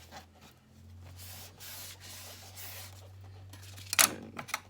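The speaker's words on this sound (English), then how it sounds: "And burnish it down." Close, soft rubbing strokes come as a surface is burnished down by hand, with a low hum underneath and a brief louder scuff near the end.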